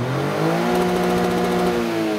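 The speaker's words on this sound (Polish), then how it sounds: "Zobaczcie, nawet na postoju rozkręca się do tych 7000 obrotów." Toyota GR Yaris three-cylinder engine revving hard while the car stands still, a loud, steady high-rpm roar holding near the limiter with a harmonic exhaust note, close up, no talking.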